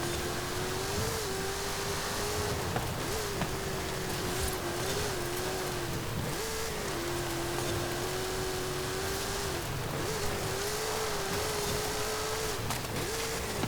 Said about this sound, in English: Especially with that supercharger whine going on.